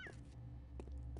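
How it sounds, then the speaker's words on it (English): A cat in the video game Postal 2 gives two or three short, faint meows over a low background hum. "There's a cat."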